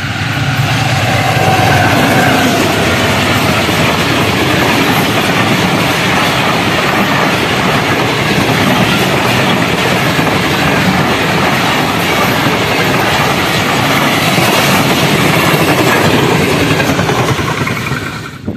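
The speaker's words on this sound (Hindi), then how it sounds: "ट्रेन गुजर गई है, आ जाओ अब।" Train passing close by on a railway, a loud continuous roar of rolling wagons and rattling wheels that lasts about eighteen seconds and fills the scene with no voices.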